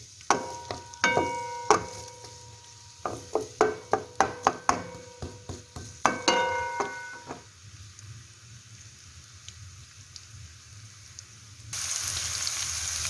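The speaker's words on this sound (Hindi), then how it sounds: "देखिए प्याज हमारे हल्के से सौते हो चुके हैं" Sliced onions sauté in a pan for crab curry, with a series of sharp clinks and scrapes as a utensil stirs them over a soft, steady sizzle, then quieter frying with a brief hiss at the end; no talking.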